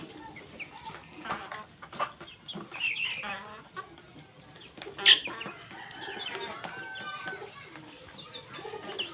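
Fayoumi chickens cluck and chatter softly at afternoon feeding, a scattered flock of short calls at moderate distance, with one louder squawk midway and a person's voice calling in the background.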